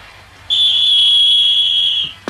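A referee's whistle in an animated football match shrills in one long, steady, piercing blast to start the second half, loud and close, followed by a brief clatter at the end.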